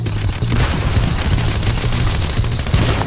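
Rapid gunfire sprayed in a first-person shooter video game, a dense continuous burst of shots lasting about three seconds, loud and close with no speech over it.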